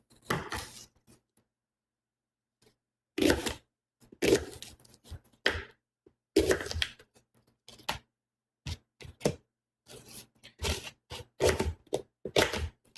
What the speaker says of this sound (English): I'm just cutting the apple up in these random chunks.